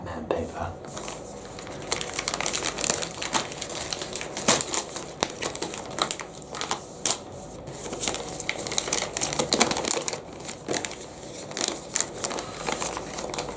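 Batman-printed wrapping paper crinkling and tearing as a package of comic books is unwrapped, with irregular close crackles and rustles continuing throughout alongside occasional handling noises.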